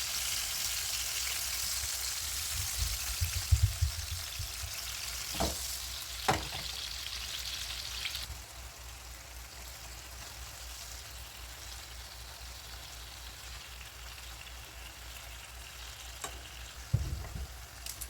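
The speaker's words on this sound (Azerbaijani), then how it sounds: "İndi tavanın içərisinə soyub doğradığım pomidoru əlavə edirəm." Peeled, chopped tomatoes fry in a pan for an eggplant dish, giving a steady broadband sizzle throughout with a few sharp pops and stirring knocks, louder in the first half and then settling to a quieter sizzle.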